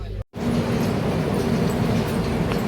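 A train stands at Balugaon railway station, giving a steady loud low rumble and hum broken only by one brief dropout near the start.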